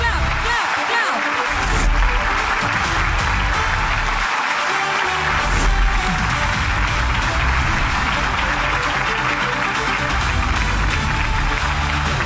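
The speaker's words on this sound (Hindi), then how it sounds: "Come on, clap, clap, clap, everyone, clap, clap, clap." An audience at the launch event for the UCN Smart IPTV app claps loudly and continuously for several seconds in a dense, sustained burst of applause, with a voice heard over it.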